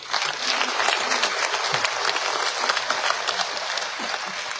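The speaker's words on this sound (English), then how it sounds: "I think we should clap for those guys." Delegates at the official opening of an investment conference in Zambia applaud, a broad, even patter of many hands clapping, sustained and fairly distant, with little talk over it.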